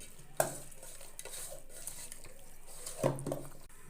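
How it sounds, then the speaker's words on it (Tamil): Hands mix spices, salt and sesame oil into country chicken for a village-style curry, giving soft wet squelching and rubbing with a couple of sharper knocks against the vessel, close and quiet, with no talking. "இப்போ என்ன பண்ணுறோம், கை விட்டு பிசைகிறோம்."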